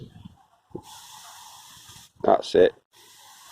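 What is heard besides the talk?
spraying water over the ground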